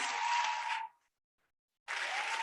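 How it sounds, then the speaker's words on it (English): Audience applause at a university convocation ceremony, heard as two fairly quiet bursts of many hands clapping separated by a second of complete silence. "A round of applause for us."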